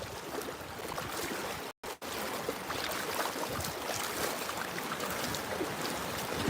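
Gentle sloshing and trickling of shallow Gulf of America water around wading legs, a steady close wash of splashes and swirls with one brief dropout, no talking.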